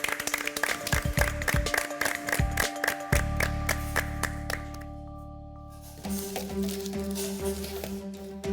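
Applause on the MasterChef Türkiye set, a dense burst of clapping that carries on for several seconds, thins into a lull, then rises again beneath a steady background tone.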